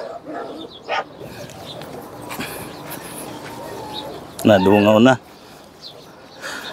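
Dogs bark in several short bursts, with one louder, drawn-out howling bark in the middle, heard outdoors alongside a person's voice and some bird sounds.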